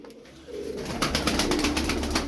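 Tumbler pigeons in a loft cooing up close, a low repeated throaty coo that grows fuller after a quiet start, with no talk.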